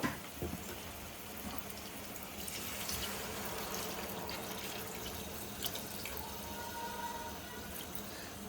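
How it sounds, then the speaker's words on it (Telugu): A glass of water poured into a pan of small Krishna river fish curry, giving a steady, fairly quiet trickle and splash of running liquid throughout with faint clinks near the end. "ఒక గ్లాస్ వాటర్ అయితే పోసుకుంటున్నాను నేను"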